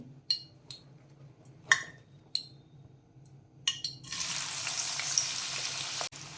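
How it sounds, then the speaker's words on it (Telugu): Bitter gourd pieces drop into hot oil in a pan and settle into a steady, close sizzle after a few scattered clinks and taps. "ఆయిల్ వేసి హీట్ అయిన తర్వాత మనం ముందుగా కట్ చేసుకున్న కాకరకాయ ముక్కలను వేసుకోవాలి."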